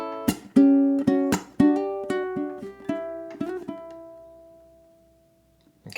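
Ukulele strummed and picked through bars 5 and 6 of a song, a string of distinct close plucked notes and accented strums that ring out and fade to a final sustained note, heard alone.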